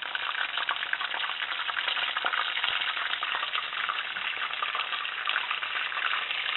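Spinach artichoke wontons fry golden brown in hot oil, making a dense, steady, close crackling sizzle that holds evenly throughout.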